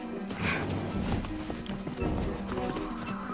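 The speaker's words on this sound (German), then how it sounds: "Die Pferde." Horses in a fantasy adventure setting, frightened and stirring nearby, with hooves clattering and thudding in a busy, uneven rhythm under steady background noise and a faint voice.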